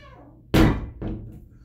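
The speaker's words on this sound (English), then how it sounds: "That's my bathroom door." A narrow bathroom door in a hotel room thuds shut with a sharp knock, followed by a softer second bump about half a second later, close and fairly loud.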